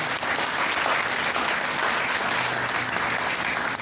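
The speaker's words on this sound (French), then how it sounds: "Donc je vous demande exceptionnellement d'applaudir Madame la directrice." An audience applauds the school director at a New Year greetings ceremony, steady close clapping from a crowd lasting a few seconds.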